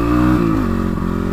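A motorcycle engine revs loud and close during a wheelie, its tone dropping through a gear-like shift partway through and then settling into a rough, pulsing drone.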